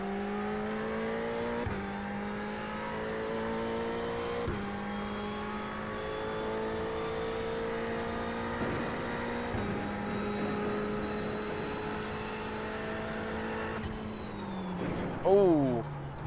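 A race car in the iRacing simulator holds a steady engine drone through shifts and a corner, then revs sharply near the end, with someone talking over it throughout.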